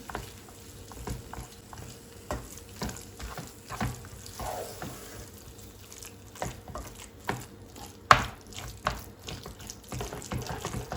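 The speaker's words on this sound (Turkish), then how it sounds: "Kaşar peynirimi de şöyle eriyinceye kadar karıştırma işlemine devam ediyorum." Eggplant hünkar beğendi base with melting kashar cheese being stirred in a pan, giving a steady soft sizzle with scraping spoon strokes and wet squelches throughout.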